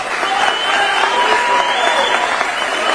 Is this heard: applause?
yes